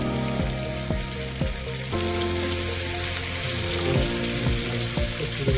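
Onion fries in a pan for a Korean Andong jjimdak dish, giving a steady crackling sizzle with scattered utensil taps and scrapes beneath a constant tonal hum.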